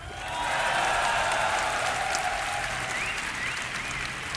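Crowd at an esports tournament, the Dreamhack Winter 2011 StarCraft grand finals, cheering and applauding in a sustained, dense wash of clapping that stays loud throughout, with faint whistles and shouts rising above it.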